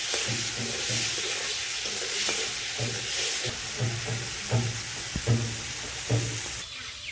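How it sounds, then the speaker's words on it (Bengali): A ground paste of green chilli and cumin sizzles and hisses as it fries in hot oil in a pan, with periodic stirring scrapes breaking the steady crackle, close and alone with no talk. "মশলাটা ভাজা হয়ে গেছে"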